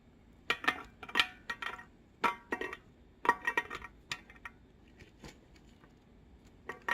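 Sliced onions, apples and butter go into the inner pot of a Ninja cooking system, giving scattered light clinks and taps of food and utensils against the metal pot, fairly quiet and irregular with gaps between.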